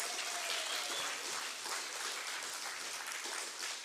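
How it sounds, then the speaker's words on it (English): A crowd claps steadily, a dense patter of applause with no voices over it, continuing evenly throughout. "a big round of applause for Rexy"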